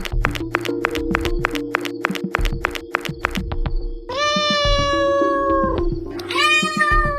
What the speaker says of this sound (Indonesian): Hus, kucing nakal, bikin kaget aja.